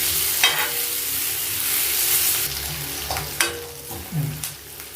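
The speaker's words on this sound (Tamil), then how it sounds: "வெங்காயம் நல்லா வதங்கினாதான் டேஸ்ட் நல்லா இருக்கும்." Onions frying and being stirred in a pan for chicken kulambu, giving a steady, loud sizzle broken by several scraping stirs and spoon knocks, heard up close.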